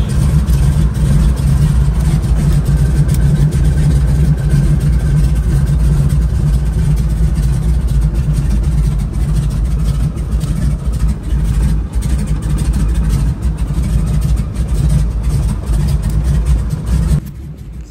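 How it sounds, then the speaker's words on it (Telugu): A seaplane engine starts and drones loudly and deeply at close range without letup, a heavy rumbling roar that drops off only at the very end. "దాన్ని పైకి కిందికి ఒక 3 times పుల్ చేస్తే ఇంజన్ స్టార్ట్ అవుతుందంట"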